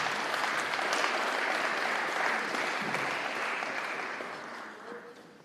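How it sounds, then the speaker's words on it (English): An audience applauding signees at a high school national signing day, sustained full clapping in a room that gradually tapers off toward the end. "One more big round of applause for these young men."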